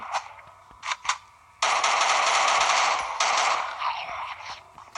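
Rapid automatic gunfire in a battle video game: a few short shots first, then a loud, sustained machine-gun burst with brief gaps that continues to the end.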